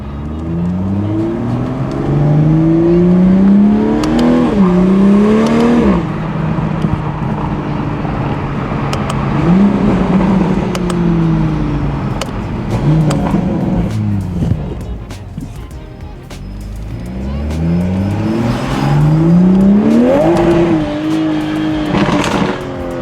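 A Toyota A91 Supra engine revs repeatedly, pitch climbing and falling in loud bursts, with brief lulls between surges; a voice occasionally speaks.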